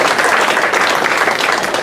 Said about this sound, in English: So please give Finn a round of applause